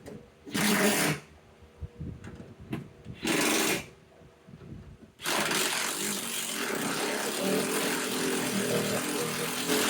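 Power tool tightening door bolts and window regulator bolts on a 2007-2013 Chevy Silverado door, two short bursts, then a sustained close, loud whirring run.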